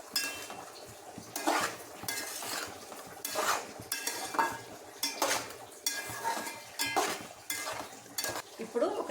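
Chicken fries with onion and turmeric in a pan while a spatula stirs and scrapes in repeated rhythmic strokes. The strokes are loud and close, with a light sizzle underneath.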